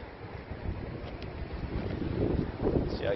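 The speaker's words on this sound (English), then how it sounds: "It's pretty windy" Wind rushes against the microphone outdoors near a pond, a continuous rumbling buffet that gusts louder toward the end of the short stretch.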